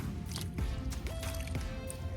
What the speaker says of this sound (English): I may add just a little bit more water to them.